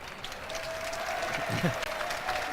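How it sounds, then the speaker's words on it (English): Crowd in a college basketball gym, Yeshiva Macs versus Old Westbury Panthers, applauding the referee with a steady ovation of clapping, moderately loud and continuous, with some voices and brief talk mixed in. "The ref will receive an ovation from the crowd."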